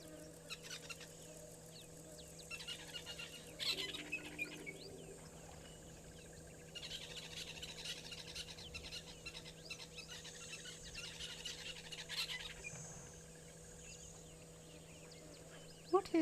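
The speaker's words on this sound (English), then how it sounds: "It was just a bird of some sort." A bird calls from the bush outdoors, its chirps and clucking notes scattered across the stretch, faint to moderate, over a steady hum of insects and a low background drone.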